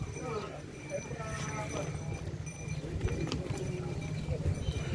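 A yoked team of tame oxen at a cattle fair in Ibiapina, Ceará moves with a rapid, irregular patter of hooves amid crowd noise and people talking nearby.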